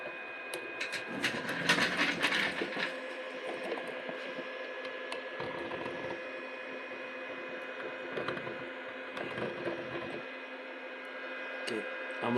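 A Two Trees Bluer Plus 3D printer running a print, with a steady electrical hum and whirring stepper motor tones, plus intermittent clicks and brief mechanical rattles close by.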